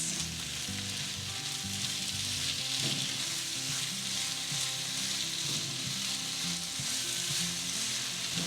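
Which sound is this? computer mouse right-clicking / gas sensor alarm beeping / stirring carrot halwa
stirring carrot halwa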